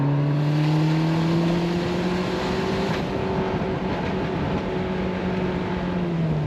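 Turbocharged Mazda ND Miata engine pulling through a drive, a loud, steady, throaty drone that rises and eases slightly in pitch, heard close from inside the car with no talking.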